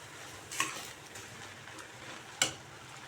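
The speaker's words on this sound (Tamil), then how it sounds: "இப்போ இந்த துவரம் பருப்பு வந்து நம்ம இதில் சேர்த்துக்கலாம். சேர்த்து நல்லா கலந்து விட்டுடலாம்." A spoon stirs cooked greens with added toor dal in a pan, making two distinct scraping strokes spaced well apart over a faint background hiss. No one talks.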